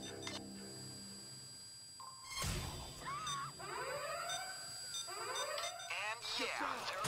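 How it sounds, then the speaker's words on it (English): A bank alarm in the heist video game Payday 2 sounds as thin, steady high electronic tones running throughout, with a heavy thud partway and voices speaking over it. "there goes the alarm"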